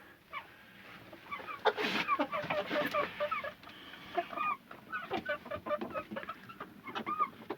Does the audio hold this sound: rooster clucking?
yes